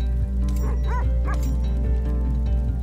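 Several dogs bark in short yips and woofs in a video game, The Red Lantern, a few clear barks clustered early over a steady droning game soundtrack, with faint whimpering between.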